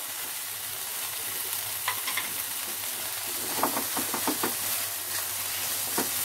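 Chhana being stirred with a little turmeric in a hot frying pan, giving a steady low sizzle with a run of soft scraping stir strokes partway through; no voices.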